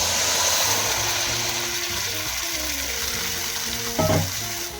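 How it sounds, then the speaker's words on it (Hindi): Chopped ginger frying in hot ghee gives a steady broadband sizzle the whole way through, with a brief louder burst of crackling near the end; nobody speaks over it. "अब इसी में हम इसको अदरक का जो हमने रेडी किया है उसको डाल देंगे।"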